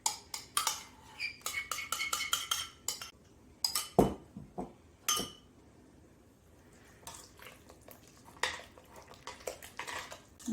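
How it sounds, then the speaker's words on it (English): Spoon scraping and clinking inside a pot while sauce is stirred back into a tempeh bourguignon, with irregular metallic taps in bursts and quieter stretches between. "Now we will mix that back into the bourguignon."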